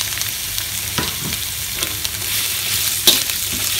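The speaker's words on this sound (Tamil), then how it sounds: "அந்த வெங்காயத்தை போட்டுடலாம்" Three large chopped onions frying in hot oil with cumin, a loud, close, steady sizzle broken by scraping stirs and a sharp clink near the end, with no voices.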